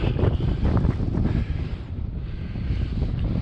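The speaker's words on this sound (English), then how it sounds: "It's very windy and very cold" Strong wind roars and buffets steadily across the microphone in continuous gusts on an open mountain summit, St Sunday Crag in the Lake District, with no voices, only the rushing blast of cold open air.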